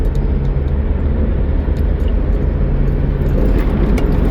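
A car driving along, heard from inside as a loud, steady engine and road rumble with constant low hum throughout and no talking.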